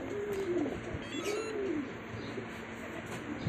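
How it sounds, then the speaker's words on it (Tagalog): A pigeon gives soft, low cooing calls, two or three rolling coos over faint background noise, with no voices. "Bird."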